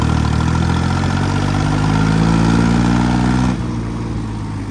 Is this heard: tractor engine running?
yes